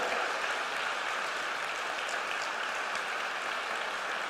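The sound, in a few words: congregation applause in church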